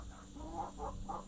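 Hens in a chicken coop cluck and squabble over nesting boxes, a quick run of three or four close, agitated clucks over a steady background hum.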